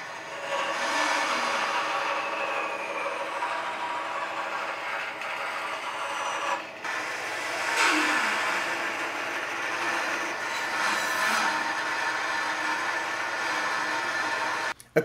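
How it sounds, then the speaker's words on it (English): Belt grinder cuts knife handle scales for a sailor's knife, a close, sustained abrasive whine and rasp that shifts in pitch as pressure changes, with a brief break midway. "then cut them slightly oversized on the grinder"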